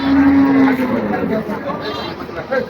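Cattle at the Shibalaya cattle and goat market, also called Aricha market, low moo rising up near and loud, then fading into crowd chatter and market bustle.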